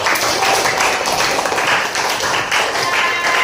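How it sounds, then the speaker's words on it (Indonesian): Students in a classroom clap together for classmates during a practice teaching lesson, a steady, dense patter of applause filling the whole stretch at close range. "Boleh kasih tepuk tangan lagi?"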